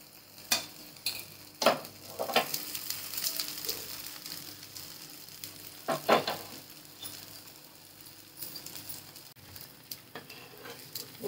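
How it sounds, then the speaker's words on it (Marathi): Dhirde (thin savoury pancakes) frying in a little oil in a kadhai, with a steady soft sizzle and scattered scraping and clinking bursts from stirring, close and moderately quiet, no talk. "थोडंसं तेल वरून सोडून देते कढईत।"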